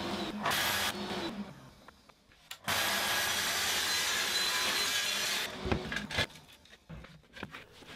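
A track saw cuts through a plywood sheet in a workshop, giving a loud, steady broadband whine for about three seconds before it spins down, with shorter bursts of cutting and handling noise around it. No one speaks.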